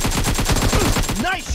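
Automatic gunfire in the battle-royale video game PUBG: a rapid, evenly spaced burst of about a dozen loud shots fired close up, ending abruptly in a brief tail.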